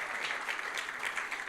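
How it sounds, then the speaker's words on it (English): Church congregation clapping steadily for a woman named Lola, a dense, even wash of many hands sustained throughout without any voices. "Give her another clap today."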